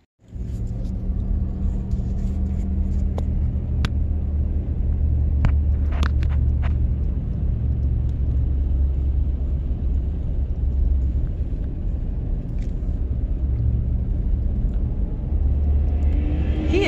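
A car rolls along a road near Canyon Lake, Arizona, with a continuous low rumble of engine and tyres and a few faint ticks and rattles over it.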